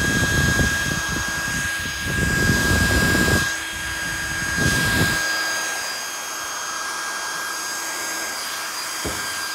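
An HP DPS-1200SB server power supply fan whirs loudly with a steady high whine, swelling in rough surges before settling into a quieter, even hum.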